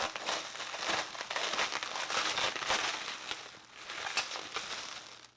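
Plastic bubble wrap packaging crinkles and crackles while a package is being unpacked, a dense run of close, irregular rustling bursts with no talking.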